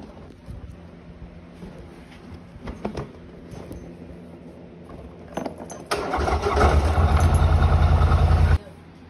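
A Polaris Sportsman 1000 ATV fitted with snorkel risers is cranked, with scattered clicks and rattles before it catches, then idles loudly and steadily up close for a few seconds before cutting off.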